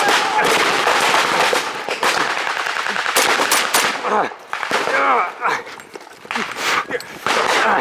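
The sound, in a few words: blank gunfire at WW2 D-Day battle reenactment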